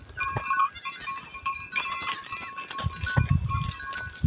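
A goat bleats in a domestic yard beside a house, giving a few short bleats with a louder, harsher call near the end, close and fairly clear over low background noise.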